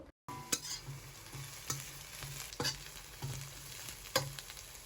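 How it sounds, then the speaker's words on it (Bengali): Chopped green chillies and chepa shutki, a fermented dried fish, fry in a pan in a soft steady sizzle, with a few spatula scrapes at irregular intervals, quiet and close, no voices. "কাঁচামরিচ আর শুটকি দেওয়ার পর 1 থেকে 2 মিনিটের মতো খুব ভালোভাবে ভেজে নেব।"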